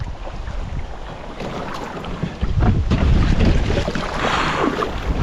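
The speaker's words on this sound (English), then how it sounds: "You can hear the wind in the background." Steady wind gusting through mangroves on a remote island, a broad rushing roar that swells louder midway and stays strong, with faint water movement beneath and no voices.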